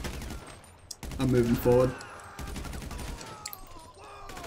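Gunfire from a weapon in GTA Online during a Fleeca heist: a short burst of rapid shots rises loudly near the middle, with a voice speaking over the game sounds before and after.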